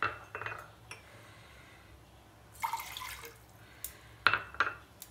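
A saucepan sits on a gas stove in a home kitchen while one and a half cups of water are poured into it. Close metallic clinks and splashing come in short bursts, with no one talking.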